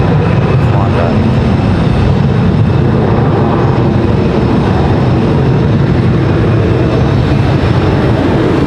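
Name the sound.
Airbus A320neo jet with Pratt & Whitney engines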